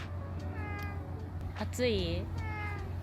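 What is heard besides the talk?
cat meowing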